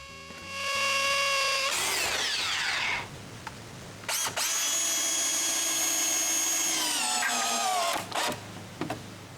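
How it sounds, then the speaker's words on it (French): A power drill drives screws into concrete while a wooden shelter is built at a chalet. Close, loud bursts of whining motor spin up, hold and wind down in several separate runs with short quiet gaps between them. "je visse tout ça au béton."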